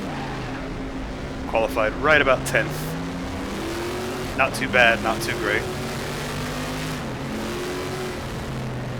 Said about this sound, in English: I am driving the Greenwood Chevrolet, mostly because I think it makes one of the best noises ever known to man